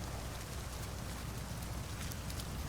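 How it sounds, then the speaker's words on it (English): Steady rain in the video game No Man's Sky, a dense, even hiss of falling drops with faint patters, continuous and uniform throughout with no voices. "All I know is that it is raining,"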